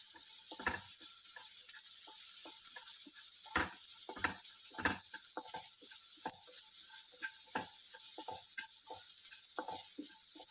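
Onions with salt sizzle softly in a pan on the stove, a faint continuous frying hiss broken by the scrape and clack of a spoon stirring at irregular intervals.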